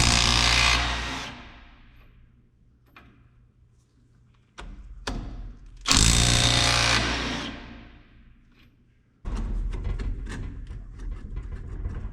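A power drill whines in several bursts while drilling front axle parts, revving up then tailing off, separated by quiet stretches with small clicks and handling noises.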